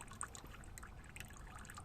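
Water trickles from a pumped reservoir in a recirculating Dutch bucket drip irrigation setup: a faint, quiet dribble with scattered small drips and splashes.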